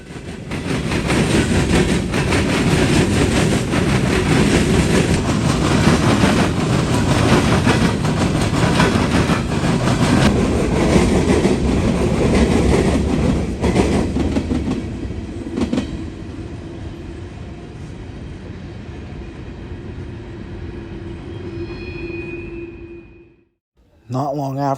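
A coal train rolls through a rail diamond crossing in Marion, Ohio, with loud, continuous rumbling and clattering wheels close by, then the noise fades as the last cars pass, leaving a faint tone and quiet.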